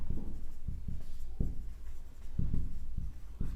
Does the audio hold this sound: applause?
no